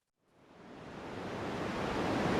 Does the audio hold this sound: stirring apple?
no